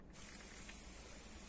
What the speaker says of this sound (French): là maintenant on va arroser comme ça